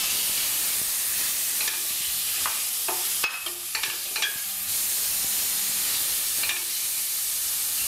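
Tomatoes sizzle and fry in a hot pan while being stirred for a Mauritian kari, a steady broad hiss with occasional scraping and clinking of a utensil, no voices.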